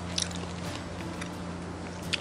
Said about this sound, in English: I know you guys can hear that crunch